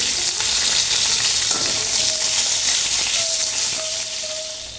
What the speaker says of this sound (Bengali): বেগুনটা দিয়ে দিয়েছি বেগুনগুলো সামান্য হালকা করে আমি ভেজে নিচ্ছি